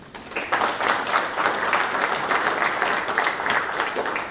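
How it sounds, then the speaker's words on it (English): Audience at the 2024 Yalin WPA Men's World 8-Ball Championship applauds for the event's sponsors, a steady moderate clapping that swells in slightly uneven waves throughout. "Let's hear a round of applause, please, for our official partners"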